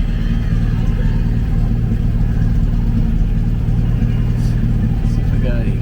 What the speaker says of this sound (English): Idling really well.